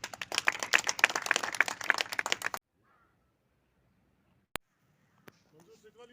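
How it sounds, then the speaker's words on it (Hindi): Loud applause from a crowd at an outdoor National Conference political rally at Neel Top in the Banihal constituency: dense, continuous clapping that stops abruptly, then near silence with a couple of faint isolated knocks. "जोरदार तालियां।"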